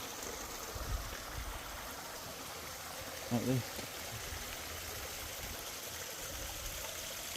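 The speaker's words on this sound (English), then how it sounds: "from underneath the church there's a fountain, like springs, water coming out" Spring water flows out from a fountain beneath a village church in the Pyrenees, a steady, soft outdoor rush that continues under a person speaking.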